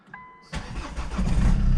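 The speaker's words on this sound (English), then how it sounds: "So we need to start the car up" A Ford Mondeo 2.2 TDCi diesel engine cranks briefly, then catches and settles into a steady, rumbling idle, close and clear.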